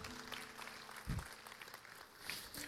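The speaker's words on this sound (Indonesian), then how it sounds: "kita kasih tepuk tangan buat dia." A church congregation claps together in a steady wash of applause, heard faintly from a distance, with a preacher's voice talking over it.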